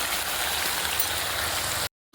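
Water poured into a cooking pot of meat with salt and turmeric, a steady broadband rushing splash close by for about two seconds, then it stops abruptly.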